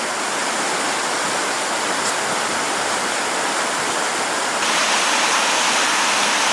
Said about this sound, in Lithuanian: Tiesą pasakius, srauniau veržėsi vanduo